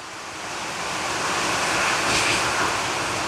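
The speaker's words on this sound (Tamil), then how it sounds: "காற்று செம்ம காற்றடிக்குது" A strong, steady wind roars continuously, building slightly in force and then holding, with no voices.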